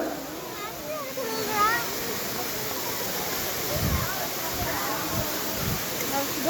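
Steady rushing water from a waterfall pours continuously, a broad hiss with voices calling and chattering over it.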